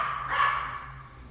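A dog gives a single short, faint bark or yip in the background, with no speech.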